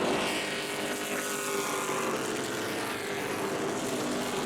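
Race cars roaring around a night speedway during a championship Super Cup race at Tri-County Speedway, a dense, steady engine drone filling the whole stretch without a break.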